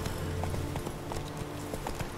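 Horse hooves clip-clop at a steady walking rhythm in the video game The Witcher 3, with repeated distinct clops over a constant background bed.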